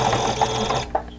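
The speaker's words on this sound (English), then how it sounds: "I'm going to sew all the way down" Sewing machine stitching face mask fabric in a short, close, steady mechanical whir that stops abruptly near the end, followed by a faint click.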